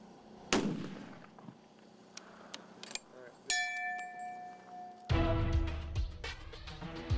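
Long-range rifle shot at a two-mile target; a sharp report sounds early, followed by further sharp cracks and a loud burst of noise near the end, with quiet gaps between.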